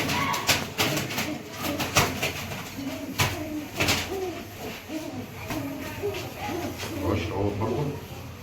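A male pigeon coos repeatedly in low, rolling hoots close by, mixed with other birds and some people talking in the background.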